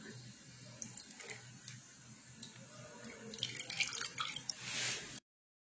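Beef tripe being rinsed in a sink under a running tap while preparing couscous, a steady stream of water with splashes and dripping that grows louder toward the end, close by and with no talking.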